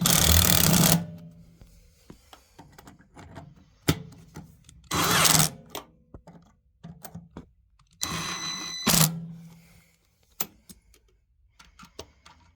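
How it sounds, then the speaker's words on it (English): Short bursts of an impact driver tightening screws on a gas water heater burner, several loud rattling impact runs separated by quieter clicks and handling noises, close by. "It's an impact, so when it gets resistance, it makes noise."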